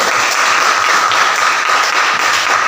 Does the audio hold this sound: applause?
yes